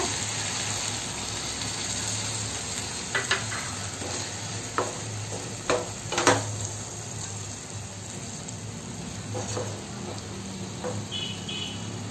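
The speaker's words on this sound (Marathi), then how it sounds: "आता आपण थोडी अर्धी वाटी असं पाणी टाकूया।" Dried shrimp with kokum and salt cooking in a pan as water is poured in for a Malvani dry prawn dish, a soft steady sizzle with a few sharp clinks and stirring scrapes, fairly quiet throughout.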